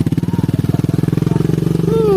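A motorcycle rides a slippery red-dirt road, its engine chugging loud and close in a fast steady rhythm before revving up toward the end.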